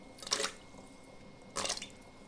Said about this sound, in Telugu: ఇప్పుడు కడుక్కున్నట్లు మనం వాటర్ వేస్తాం